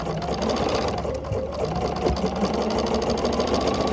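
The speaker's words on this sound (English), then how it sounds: "So let me get that over here to my machine. We're going to sew it." A sewing machine runs steadily while stitching a quilt block, giving a continuous close mechanical whir and rapid needle chatter without pause throughout.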